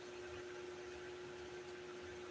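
A blow dryer runs steadily while drying paint, a faint continuous airy whoosh with a constant hum and no change in pitch.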